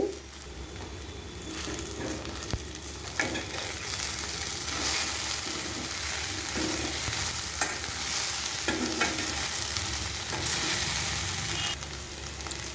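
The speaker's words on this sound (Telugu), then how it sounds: "ఫ్రై అయిపోయిందండి బెండకాయ." Sliced okra sizzles in a hot pan as a spoon stirs and scrapes it, giving a continuous close crackle broken by repeated scraping strokes, with no voices.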